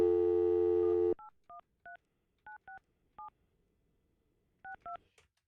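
Telephone keypad tones dialing a number on a phone system, ten short dual-tone beeps in uneven bursts following a steady dial tone that cuts off, clear and close with no talking.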